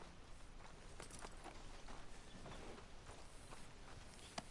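Horse hooves walking in a video game, steady repeated clip-clop steps at a moderate pace over a low background bed, fairly faint and close.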